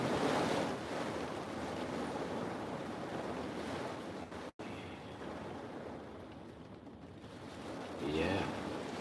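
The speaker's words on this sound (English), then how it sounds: "Wind gust." Wind gusts buffet a parked van, a steady broad roar of wind noise with a brief dropout midway and a louder surge near the end.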